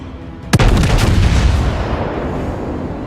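Battleship Amagi's main guns fire in World of Warships, one sharp heavy blast followed by a rumbling decaying boom, loud and close with no talk.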